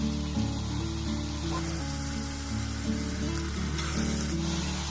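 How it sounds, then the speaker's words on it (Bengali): Vegetable pakoras frying in oil in a kadai, a constant crackling sizzle with a low bubbling hum beneath and a brief brighter burst of spattering toward the end. "এইভাবে একটা কড়াতে যতগুলো ধরবে আমি ঠিক ততগুলো দিয়ে ভেজে নেব।"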